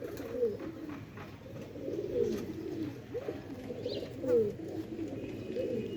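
Sialkoti rooftop pigeons coo repeatedly at close range, low throaty calls following one another in a steady rolling rhythm.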